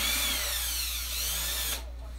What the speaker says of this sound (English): I didn't hear him because you're drilling.